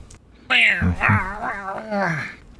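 A human voice imitates a very wet cat meowing, giving a few drawn-out, wavering mewls up close and fairly loud, heard on their own.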